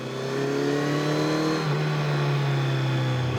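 A car on a Dolomites mountain road accelerates nearby, its engine note climbing steadily over a sustained, loud drone.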